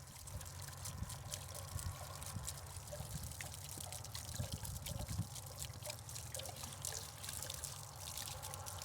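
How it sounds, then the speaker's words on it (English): Water drains from an RV water heater tank on a Riverside Retro trailer during winterizing, making a faint continuous trickle with scattered drips. "So just let it drain."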